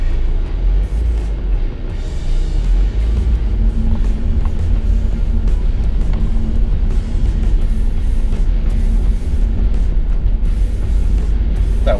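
A car fitted with snow tyres pulling off a snowy driveway, its engine giving a loud, steady low rumble and drone close by for the whole stretch, with no one speaking.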